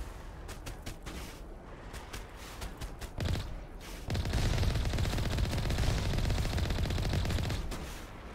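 Enemy gunfire in Mass Effect Legendary Edition, with rapid automatic bursts that crackle steadily, then swell into a louder, dense barrage after a short pause, continuing nearly unbroken to the end.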